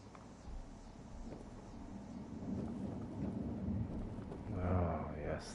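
Low rolling thunder from a storm in the Fallout 4 video game, a steady rumble that builds and swells toward the end, heard alone without talk.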